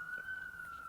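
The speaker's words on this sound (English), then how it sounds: "You hear this? Hood NYC sirens?" A single emergency siren in New York City holds a steady, faint, wavering tone throughout, far off and thin beneath a quiet indoor hush, with no talking.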